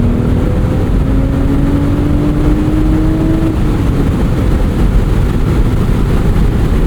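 BMW Z4 M40i roadster with turbocharged engine and six-speed manual, accelerating steadily in third gear; a continuous droning engine note rises slowly in pitch under heavy road and wind rumble, with no talking.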